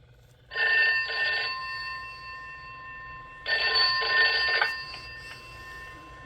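A telephone at a fire station rings loudly nearby in two long bursts of bright, rapid bell trilling, separated by a short pause.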